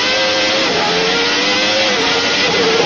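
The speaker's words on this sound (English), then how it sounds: "Thierry there going from 6th back to the gear he wants, which is probably 2nd in that case," A 1990 Formula 1 car driven by Thierry Boutsen, its engine loud and continuous from onboard with a steady high whine and small pitch shifts as it drops gears, running without a break.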